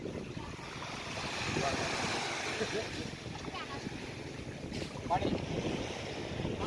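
A traditional Bininta wooden boat of Sangihe moving on the open sea, with steady broadband rush of waves and wind buffeting the microphone throughout, while people talk faintly under the noise.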